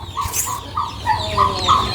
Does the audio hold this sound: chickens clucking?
yes